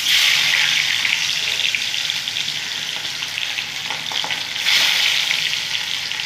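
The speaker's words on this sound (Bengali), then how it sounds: "সব মাছগুলো ভেজে নেবো" Pieces of aar fish coated in mustard oil fry in a pan, giving a loud, continuous hissing sizzle that swells and settles, heard close and alone without speech.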